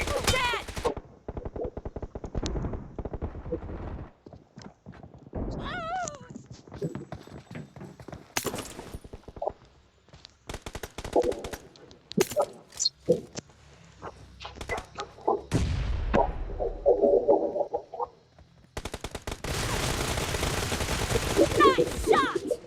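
Rapid bursts of automatic gunfire in the mobile battle royale game PUBG Mobile, close and loud, with rattling volleys interrupted by short gaps and voices calling out over the shooting.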